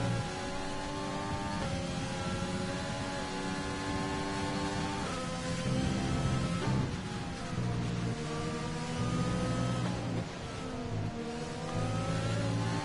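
Racing car engines drone loudly in a video game race at Austria, steady high revving with pitch shifts as one car moves round the outside to overtake another, continuous and close.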